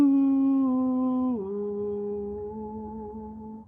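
A human voice imitates a chant of sustained hoo tones, a single long humming note that slides lower partway through and fades at the end.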